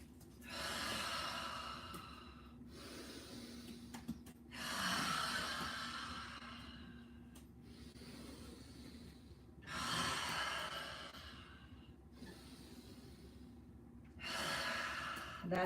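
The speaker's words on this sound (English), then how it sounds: "I'm going to do one more with some nice mouth exhales." Slow yoga breathing with long mouth exhales, four breath cycles spaced about five seconds apart, each a soft rushing sigh close to the listener in a quiet room.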